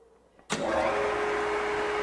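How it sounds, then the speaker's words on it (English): A FireFlex Vactec preaction system vacuum pump kicks on abruptly after a quiet moment, then holds a steady, loud mechanical drone with a constant hum. "we'll hear the vacuum pump kick on"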